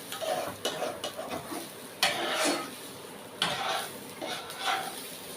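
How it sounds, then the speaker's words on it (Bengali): A spoon works through rice pulao with raisins and cashews in a pan over a low gas flame, making repeated close scraping and rustling strokes in an uneven rhythm. "এভাবে নাড়তে থাকবো বেশ কিছুক্ষণ"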